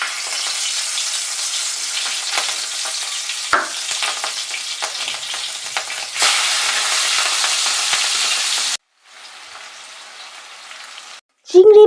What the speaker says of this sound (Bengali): এবার আমি মাছগুলোকে ভালো করে ভেজে নেব।